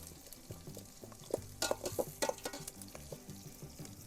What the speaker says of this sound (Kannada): ಮತ್ತು ಮೆಣಸಿನ್ಕಾಯಿ ಹಾಕ್ಕೊಳ್ಳೋಣ. ಈಗ ಫ್ರೈ ಮಾಡೋಣ.